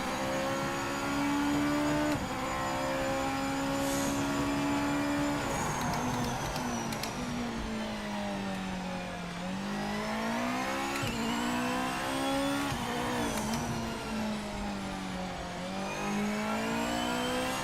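A GT500 race car engine in the Project Motor Racing video game revs steadily for about eighteen seconds, its pitch rising and dropping through repeated gear changes, loud and continuous with no talk.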